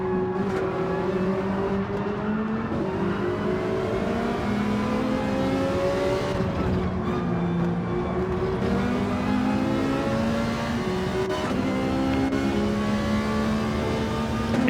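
A Ferrari race car engine in a racing video game holds a loud, steady high-revving drone with gear shifts. The pitch rises and falls continuously through the whole stretch.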